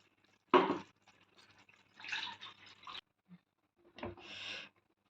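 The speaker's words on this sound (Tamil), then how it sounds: "கொஞ்சம் தண்ணி, ஜார் கலந்து தண்ணி கொஞ்சம் இதில் ஊற்றிடலாம்." Water is poured from a jar into soaked tamarind while making a medicinal gravy, giving a few short splashing bursts separated by pauses, close and fairly soft.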